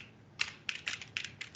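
Fingers type on a computer keyboard in quick irregular bursts of crisp plastic clicks, heard up close with no talking.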